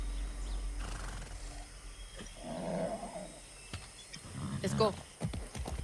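Horse ridden in the video game Far Cry 6, with a neigh and hoof sounds over game ambience while someone talks.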